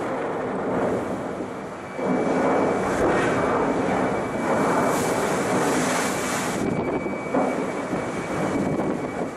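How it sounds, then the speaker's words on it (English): Helicopter rotor and engine noise passing close in front of the Kapitan Khlebnikov icebreaker in Arctic ice, a steady loud roar with wind buffeting the microphone and a swell as it passes. "It was very surprising to see a helicopter fly in front of the bridge as we sailed along"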